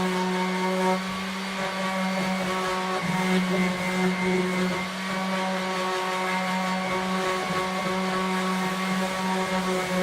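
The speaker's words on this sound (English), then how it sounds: "Hopefully the mics aren't just picking up raw sander sound" Electric sander running loudly and continuously throughout, a steady droning hum with strong harmonic tones and slight dips as it is worked, heard close with no talking.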